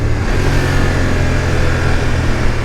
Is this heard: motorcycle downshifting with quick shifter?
yes